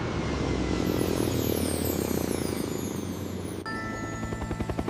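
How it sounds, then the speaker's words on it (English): A passing airplane gives a steady, loud broadband roar of engine and rushing air that holds throughout, with a tonal whine settling in near the end. "The airplane goes whoosh."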